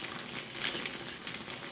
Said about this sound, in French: je rajoute dans une casserole à feu moyen mon cidre